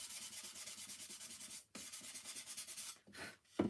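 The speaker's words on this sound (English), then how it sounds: "I could sand that as well. Smooth that out." Hand sanding of a craft piece produces soft, rhythmic rubbing strokes in quick succession, broken by a couple of short pauses, close and faint.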